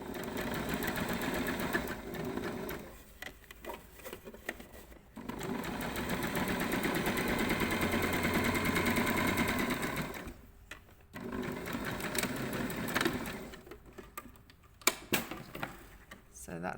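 A sewing machine runs an understitch along a camisole facing seam in bursts of rapid, even stitching, pausing briefly between runs, with a person talking quietly in the gaps.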